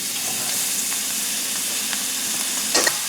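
Burdock root sizzling in avocado oil in a pan, a steady close-up crackling fry with a brief louder stir or spatter near the end.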